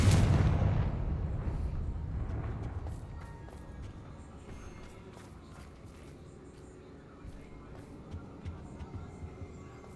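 Confringo fire spell exploding in Hogwarts Legacy, a loud booming burst at the start that rolls into a long rumbling decay, followed by faint scattered crackles and clicks.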